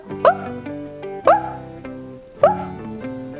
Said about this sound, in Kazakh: Күшік айтады.